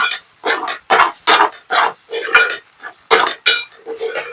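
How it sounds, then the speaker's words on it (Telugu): An egg mixture is stirred in a pan with a spatula, producing rapid rhythmic scraping strokes, loud and close, about a dozen in quick succession. "మొత్తం కలిసేటట్టు కలుపుకోండి"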